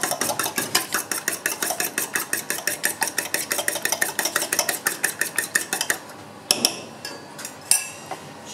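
A whisk beats egg whites together with two whole eggs in a bowl, making fast, steady, even clinks close by for about six seconds before a few scattered taps and scrapes.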